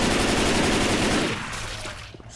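Heavy automatic gunfire in the zombie video game Left 4 Dead 2 rattles loud and continuous at first, then thins out to a lower, more distant clatter.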